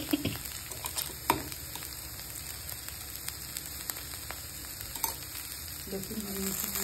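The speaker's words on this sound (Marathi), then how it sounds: "मस्त भेंडी फ्राय करून हे टाकून घ्यायचं लसूण." Okra fries with garlic in a pan, a faint steady sizzle with a few light stirring taps over a constant electrical hum, a brief murmur of voice near the end.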